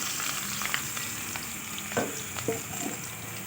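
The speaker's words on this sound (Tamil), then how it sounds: "நம்ம எடுத்து வச்சுருக்கிற கத்திரிக்காய் அதில் சேர்த்துக்கலாம்" Eggplant pieces frying in hot oil for a Tamil kathirikai poriyal, a steady close sizzle with scattered brief crackles and pops throughout, with no voices.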